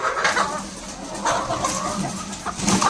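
A noisy flock of chickens gathered for feeding, clucking and squawking over one another close by in a busy, overlapping chorus with no clear pauses.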